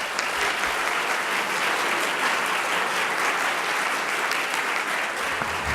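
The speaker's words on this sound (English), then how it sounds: "Let's give a round of applause for our panelists." Audience applause for panelists at a mayors' plenary breakfast, a steady, full round of clapping from a large room sustained evenly throughout.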